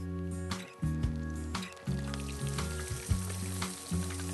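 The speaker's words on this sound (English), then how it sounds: "the pollock can now be coated before frying in oil" Beer-battered pollock frying in hot oil, a loud steady sizzle with bubbling bursts as pieces are lowered in, close and uninterrupted by talk.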